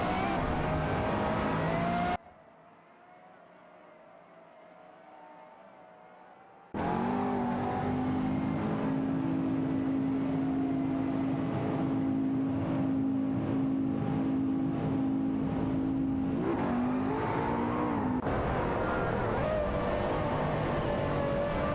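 Video game race cars, Pagani Zonda R among them, roaring at high revs with shifting engine pitch as they trade positions, interrupted by a short quiet gap before the loud engine whine returns.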